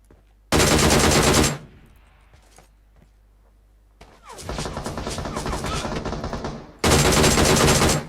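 Loud bursts of automatic gunfire from PUBG Mobile, with a long rattling volley at the start, a sustained stretch of firing in the middle and another burst at the end, separated by quieter gaps with faint clicks.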